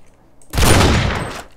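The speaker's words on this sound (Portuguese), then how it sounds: "Tomou mais um tiro" A loud, dense burst of rapid gunfire in the game SA-MP (San Andreas Multiplayer), on a Hunger Games server, erupts after a brief quiet moment and lasts about a second before cutting off.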